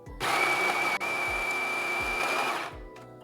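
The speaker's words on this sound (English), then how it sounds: "hit OK, and then we grind." A coffee machine's built-in grinder runs steadily for about two and a half seconds while grinding 22 grams of beans, a loud, close, high whirring drone with one brief dip before it stops.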